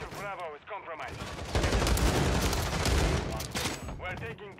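Automatic gunfire with fire breath rounds in the shooter game Modern Warfare 3, loud rapid bursts of shots packed together in the middle stretch, with brief gaps before and after where a voice is heard.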